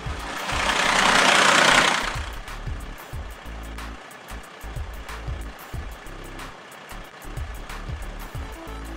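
A log truck in a children's video game drives up a mountain, its engine rumbling and chugging low and steady with rhythmic knocking pulses after a brief loud whoosh at the start, with no voices.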